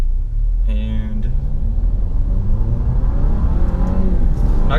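A 2017 Alfa Romeo Giulia Ti pulls away from a stoplight in manual mode and accelerates to about 4,000 RPM, its engine note climbing steadily in a loud, close, rising rumble with a brief voice near the start.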